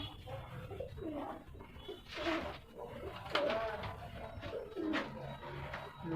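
Pigeons cooing softly in repeated low calls, close by, with a steady background hum and faint rustle.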